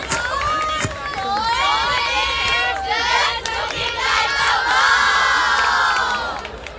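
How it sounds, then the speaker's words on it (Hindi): A packed university mushaira audience in Sargodha welcomes a poet with loud, sustained cheering, whoops and excited shouts over crowd noise, holding strong throughout before easing slightly at the end. "प्लीज़ भरपूर तालियों में इस्तकबाल कीजिएगा रेहाना कमर साहिबा"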